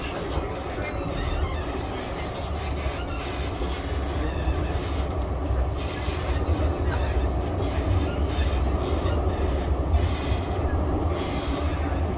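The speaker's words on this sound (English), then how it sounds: "This tram is for Blackpool Ferry" A Blackpool tram rumbles steadily along the rails of the seafront promenade, with rhythmic wheel clatter and low motor drone from inside the car.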